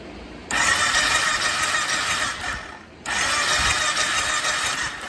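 The engine of a 2006 Kawasaki Brute Force 750 ATV, which has a fuel problem, cranks over in two long bursts of whirring starter noise separated by a short pause, loud and close.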